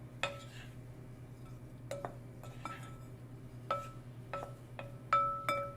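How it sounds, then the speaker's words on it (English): A spoon clinks against a bowl while bread cubes are stirred with oil for croutons, scattered bright ringing taps spaced irregularly over a low steady hum, close and fairly quiet. "we're just going to pour the oil on top and give it a stir"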